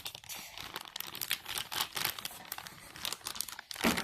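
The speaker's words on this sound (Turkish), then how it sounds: "Şimdi paketleri açmam lazım. Tabii bunun için ben makas kullanacağım." Plastic packaging for a toy train set is cut open with scissors: steady close crinkling and tearing rustles run throughout at moderate loudness, with no talking.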